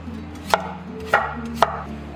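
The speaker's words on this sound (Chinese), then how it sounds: "莴笋的话，我们就切细条" A knife cuts celtuce into thin strips on a board, making three distinct, evenly spaced chopping knocks close up over a low steady background hum.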